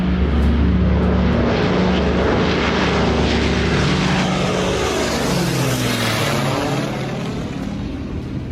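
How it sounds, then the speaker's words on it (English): A Kit Fox Speedster Classic 4 single-engine light aircraft at a Stearman fly-in drones loudly with a steady propeller engine roar throughout, the pitch shifting slightly as it passes and fades a little near the end. "a Kit Fox Speedster Classic 4 crashed shortly after takeoff"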